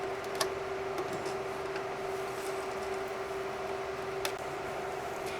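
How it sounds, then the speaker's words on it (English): A sewing machine back stitching over the start of a hot pad seam, a steady close mechanical hum with a constant tone and a few faint ticks, no voices. "Just back stitch over where you started."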